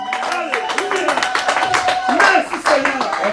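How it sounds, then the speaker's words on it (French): Congregation clapping and cheering in a French-language church service, rhythmic handclaps over loud voices and singing-like calls from the crowd. "Donnons des acclamations, Seigneur."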